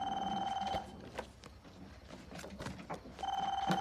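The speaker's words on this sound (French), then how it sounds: "Réponds au téléphone" Telephone bell ringing in an indoor room, two loud electronic ring bursts at the start and end with a quiet pause between, heard alone without talk.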